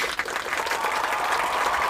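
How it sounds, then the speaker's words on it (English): Steady applause, a dense continuous patter of many hands clapping at moderate volume, with no talking over it. "Thank you for the applause."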